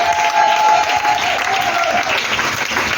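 A church congregation claps loudly and steadily throughout, a dense, continuous wash of applause filling the hall from start to finish with no talking.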